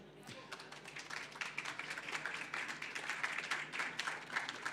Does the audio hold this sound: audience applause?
yes